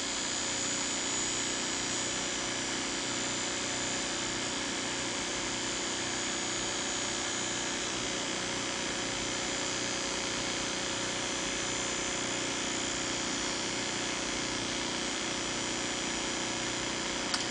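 A small fischertechnik motor driven by a Raspberry Pi through a transistor with PWM hums steadily and faintly for the whole stretch, a thin even whir with no pauses or changes.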